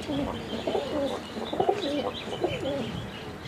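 Several pigeons coo in soft repeated bursts close by, their low throaty calls overlapping against a light background hiss.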